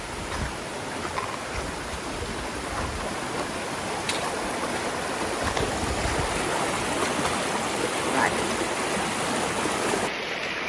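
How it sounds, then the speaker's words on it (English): Water from a stream rushes across a flooded road, a steady broadband wash that stays constant and close. "Our road has just turned into a river."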